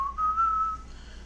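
A single clear, sustained whistled note rises slightly in pitch and then fades after about a second, heard alone with no voices.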